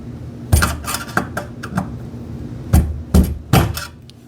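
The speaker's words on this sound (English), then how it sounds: "Take your screwdriver and push those teeth." A screwdriver clicks and knocks against the metal teeth of a 240-volt range outlet box, a handful of sharp close taps spaced unevenly, a few in quick pairs, with no voices.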